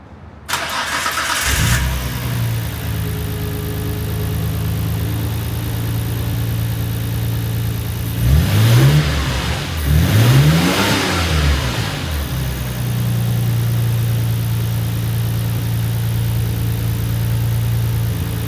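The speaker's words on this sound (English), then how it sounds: "Alright, so obviously car fired up." A Nissan Skyline R33 GTR engine cranks and fires up, then revs twice in strong rising bursts before settling into a steady, close idle.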